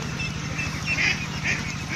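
Farmed young ducks on a local and hybrid meat-duck farm quack in a continuous noisy flock chatter, close and fairly loud against a steady humming background.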